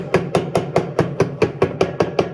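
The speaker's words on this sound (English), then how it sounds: "Get a hammer in there." A hammer taps on Whirlpool washer parts in a steady rhythm, eleven crisp, ringing metal strikes at an even pace, close and loud with no talking.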